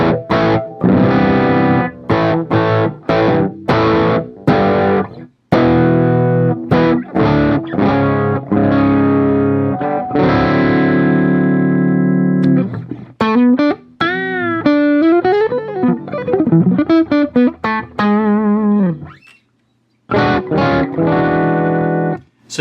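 Electric guitar played through a Neural DSP Archetype: Plini amp simulator set to a mid-breakup tone, with chords then a bending lead line and a final pair of chords, loud and close with no talking.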